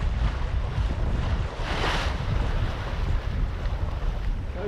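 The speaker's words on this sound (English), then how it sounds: "16 knot beam reach and ploughing along at 6 knots." Sailboat ploughing along at about 6 knots on a 16-knot beam reach off Falmouth and St Mawes, with steady loud wind rush and hissing waves against the hull, plus a brief surge of spray midway.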